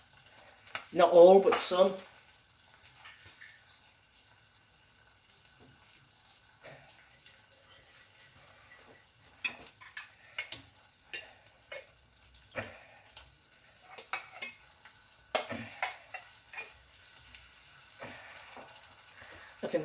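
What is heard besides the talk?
mushrooms frying and being stirred in a stir-fry pan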